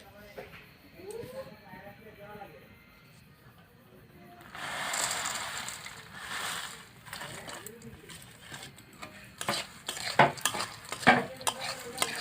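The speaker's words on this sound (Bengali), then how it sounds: "নেড়ে চেড়ে ভালো করে মিশিয়ে দিব" Fried boondi being tipped into sugar syrup and stirred for motichoor laddu, a soft burst of syrupy sizzle followed by sticky scraping and clinking of a spoon in the pot, with a voice talking early on.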